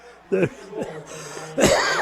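A brief cough breaks into a football radio broadcast, Wawasee versus Northwood, landing between announcers' excited play-by-play calls, with a couple of short throaty bursts close to the mic.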